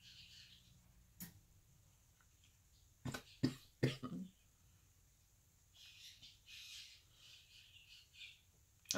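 A few sharp coughs come in a quick cluster, preceded by one isolated cough, in an otherwise quiet room with faint background noise.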